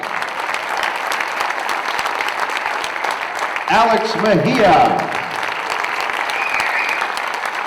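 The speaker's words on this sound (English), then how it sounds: "How about a big round of applause for Tom Wallace?" Continuous applause from a crowd at a baseball team's winter caravan event, with an announcer briefly calling a player's name over the clapping midway.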